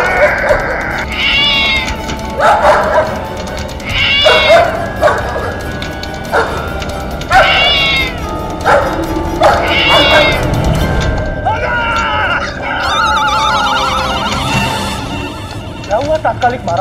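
A cat meows repeatedly in drawn-out cries while a dog barks, loud and close in a busy mix, with some speech-like sounds mixed in.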